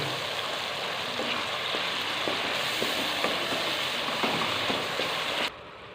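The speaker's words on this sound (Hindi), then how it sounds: "टमाटर को अच्छे से मैं फ्राई कर लूँगा ताकि टमाटर सॉफ्ट हो जाए।" Tomatoes fry in oil in a pan for a restaurant-style aloo matar sabzi. A steady, close, hissing sizzle with faint crackles carries on without a break and drops away abruptly near the end.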